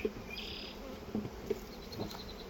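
Bees buzz steadily at close range, a continuous drone with occasional louder passes and soft knocks.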